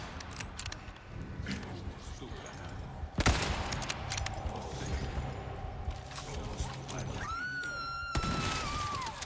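Rapid gunfire and heavy explosions erupt in Resident Evil 4 Remake combat, with a loud grenade-like blast partway through, followed by more shots and mechanical clatter under sparse game sounds, close and dense.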